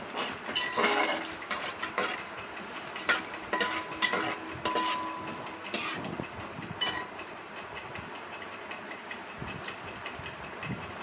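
Chana dal fries in a pan for pudina rice, with soft, rapid crackling and repeated metal spoon scrapes and clinks from stirring, fairly quiet and irregular throughout.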